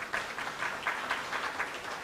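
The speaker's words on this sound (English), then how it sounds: "So let's give them a clap." An audience at a foundation launch ceremony applauds: soft, dense clapping that sounds distant and fairly faint but holds steady throughout.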